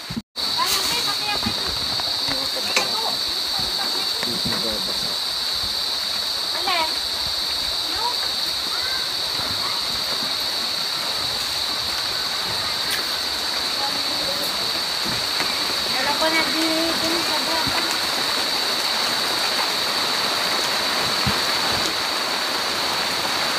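Steady rain falling outdoors near a rambutan tree, a dense continuous hiss throughout with a bright high-pitched insect-like drone layered on top.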